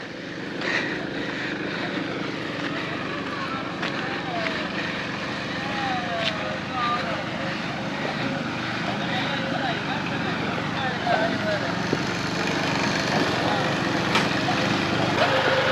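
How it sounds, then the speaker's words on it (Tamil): A tractor engine drones steadily at a distance on Kottaimalai hill in the Jawadhu Hills, Tamil Nadu, a rough continuous rumble that holds on without fading, with faint background sounds around it. "டிராக்டர் வர சத்தம் கேட்குதுங்க"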